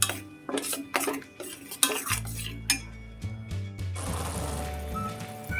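Tomato puree and goda masala frying in a pan, stirred with a metal spoon that scrapes and clinks against the pan in irregular strokes over a soft sizzle, close by.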